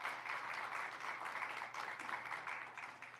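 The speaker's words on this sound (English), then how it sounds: "give her applause" An audience applauds after a live musical performance at a clean tech incubator event, producing a dense, steady patter of clapping at moderate volume with no speech over it.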